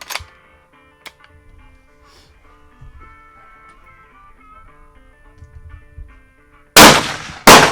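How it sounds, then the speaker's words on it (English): A Savage Axis rifle chambered in 6.5 Creedmoor fires near the end as a sharp, loud blast with a fast echoing tail, following a stretch of quiet handling clicks and faint background noise. "I felt I pulled that shot to the right."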